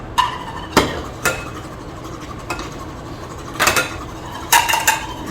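Eggs with salt beaten in a bowl, a handful of separate clinking strikes of a utensil against the bowl with pauses between them, close and fairly clear.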